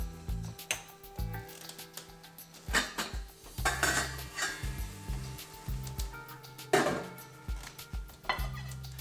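Boiled potatoes tipped off the stove into a bowl for aloo masala: scattered clanks and scrapes of a pot and utensils against dishes, close and fairly quiet, in several short bursts with pauses and no talking.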